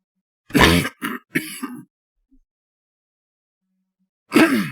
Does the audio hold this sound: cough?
yes